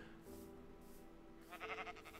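A sheep bleats in the Minecraft video game, a short, faint, nasal call rising near the end over quiet background game sound.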